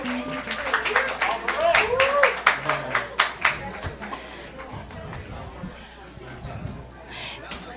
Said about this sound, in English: Round of applause for this Unity band and that opening.